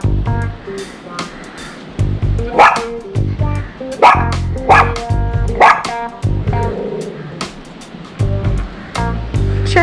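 A dog barks repeatedly and loudly close by, with sharp bow-wow bursts in an irregular rhythm across ten seconds and a few yips between them.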